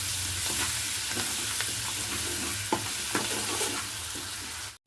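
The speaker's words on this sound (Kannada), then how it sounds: "ಆ ಪೇಸ್ಟ್ ಇದಕ್ಕೆ ಹಾಕ್ಲಿಕ್ಕತ್ತೀನಿ ಇದೊಮ್ಮೆ ಮಿಕ್ಸ್ ಮಾಡ್ಕೊಂಡು" Green chili and coriander paste being stirred into a sizzling chutney in a pan: a steady, close hiss of frying with soft scraping strokes of the spoon and no voices over it.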